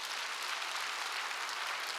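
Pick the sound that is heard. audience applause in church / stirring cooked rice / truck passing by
audience applause in church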